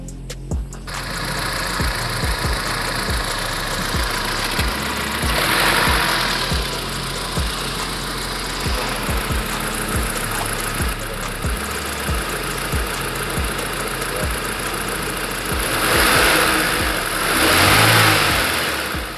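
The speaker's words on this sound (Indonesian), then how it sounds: "Nah sekarang kita langsung dengerin aja suara mesinnya ya." A Honda City Type Z car engine runs steadily at idle with a regular low throb, rising in two brief revs before settling back to a smooth hum.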